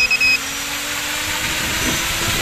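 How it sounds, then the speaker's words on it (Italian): A DJI FPV drone fitted with an O3 Air Unit arms its motors, with a few short electronic beeps at the start followed by a steady, broadband whirring hum that holds close and loud for the rest of the clip. "armiamo i motori."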